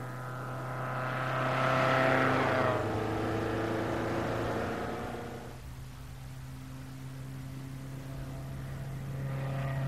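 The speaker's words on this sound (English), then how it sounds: "This car is a 1962 Lotus Elite." A 1962 Lotus Elite with a 1216 Coventry Climax engine drives past, its engine note swelling to a loud pass-by and then fading, with a droning tone continuing afterward.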